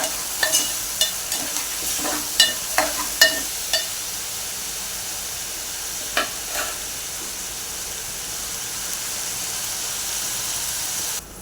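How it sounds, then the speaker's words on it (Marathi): Tomatoes sautéing in a pan for a wet bombil (Bombay duck) curry, with a spoon scraping in several sharp strokes early on, then a loud steady sizzle alone. "त्यामध्ये टॉमॅटो टाकूया टॉमॅटोला हे परतून घेऊया"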